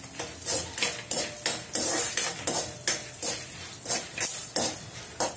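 Chillies and coriander crackle and sizzle in hot oil in a pan as a spoon stirs and scrapes the metal in bursts, close and busy, with no voices.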